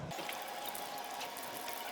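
A public drinking water tap in Mostar runs with a steady, close splashing rush of water filling a bottle, continuous and fairly quiet with no talking.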